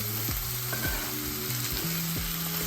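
Chopped tomato goes into a pan of frying onion, garlic, ginger and curry leaves, giving a constant loud sizzle close up, with a spoon scraping and knocking against the pan several times and no voices.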